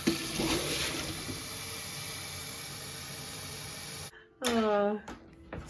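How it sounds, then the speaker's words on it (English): Water runs steadily from a faucet into containers in a kitchen sink, a continuous hissing stream that cuts off near the end, followed by a short burst of voices. "now I'm going to start filling them up with water the rest of the way"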